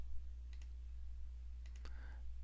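A computer mouse clicks as items are selected in engine thermocouple plotting software: a quick pair of clicks, then a short cluster of three or four crisp clicks a moment later, close against a steady low hum.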